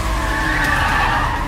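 A 2022 BMW skidding hard during a film car chase, with a loud, sustained tire screech that holds steadily for the whole moment, close and unbroken.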